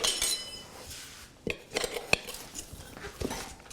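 Metal tire spoons clink and tap against a dirt bike rim as the tire is changed, a few sharp, fairly quiet metallic knocks spaced irregularly over a low background, with no talking.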